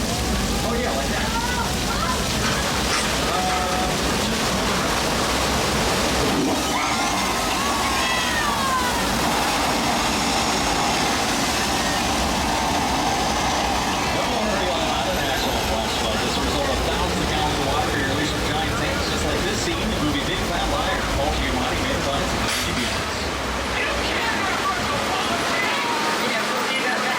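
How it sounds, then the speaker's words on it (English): Simulated flash flood on the Universal Studios Hollywood tour: a loud, continuous roar of rushing water with vehicle engine rumble under it, and people talking throughout. "when it does rain, we have flash floods. All the water just kind of stays on top until it accumulates and rushes down to the ocean."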